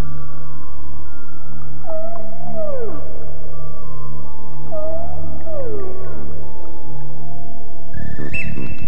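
A whale sings underwater in two long, close moaning calls that slide downward, one after another over a steady low rumble, followed by a brief higher squeal at the end.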